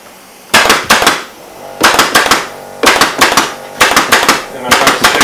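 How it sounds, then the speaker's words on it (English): A staple gun driving staples through upholstery fabric on a French balloon chair being restored, sharp close snaps in quick clusters of three or four, repeated in several groups. "Try to pull this tight as I'm stapling."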